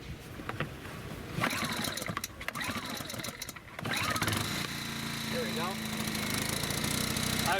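A small engine sputters through a few pulls before catching, then settles into a steady, buzzing idle close by, with brief voices early on.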